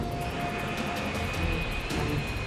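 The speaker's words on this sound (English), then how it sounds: "China Airlines Flight 120 is on final approach for landing." A China Airlines airliner on final approach and landing, its jet engines giving a steady, broad roar with a faint tonal whine, continuous and fairly loud with no voices.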